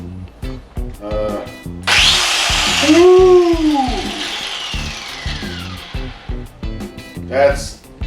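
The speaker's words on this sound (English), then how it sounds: "I'm back here with this grinder, and it's now set up to use the vicious wheel." A grinder fitted with an abrasive paint-stripping wheel spins up to a loud, high whine for a couple of seconds and winds down, with someone talking before and after it, in work on a 1968 Mustang Fastback.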